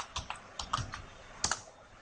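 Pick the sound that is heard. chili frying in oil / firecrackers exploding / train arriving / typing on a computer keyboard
typing on a computer keyboard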